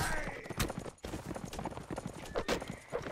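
Horse hooves clip-clopping in the Mount & Blade Warband video game, a rapid rhythmic gallop of close, sharp hoofbeats with brief breaks, alongside game noise.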